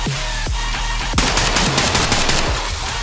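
Gunfire in the tactical shooter game Ready or Not: a few loud separate shots followed by a rapid automatic burst, close and sharp, with no talking.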